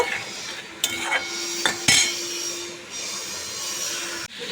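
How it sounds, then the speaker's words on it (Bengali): Spice paste stir-fried in a pan, with a spatula scraping and clinking against the metal in a few sharp knocks over a soft constant hiss, close and alone. "এরপর এটাও একটু ভালো করে কষিয়ে নেব"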